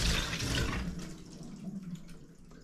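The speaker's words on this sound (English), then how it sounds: "it seems like there's some water in that line now" Water rushes through a newly connected toilet supply line in a house under drywall renovation, a strong hissing gush at the start that eases into a quieter, steady flow.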